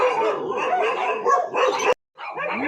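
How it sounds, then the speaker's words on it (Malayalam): Dogs bark and yip near a pigeon loft, dense overlapping barking that runs almost continuously, breaks off briefly into silence, then resumes. "പട്ടി കുരയ്ക്കണമെങ്കിൽ കുരയ്ക്കട്ടെ"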